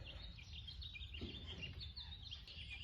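Faint, high bird chirps scattered through a quiet outdoor hush, distant and thin.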